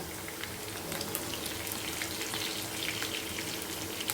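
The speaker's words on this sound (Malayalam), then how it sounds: "മീനെല്ലാം നല്ലപോലെ വെന്ത് വന്നിട്ടുണ്ട് കേട്ടോ നല്ല ഫ്രൈ ആയിട്ടുണ്ട്" Fish frying in hot oil gives a steady, faint crackling sizzle that holds evenly throughout with no voices.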